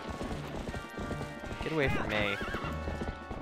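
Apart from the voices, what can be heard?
horse Epona galloping hooves in the video game Zelda: Twilight Princess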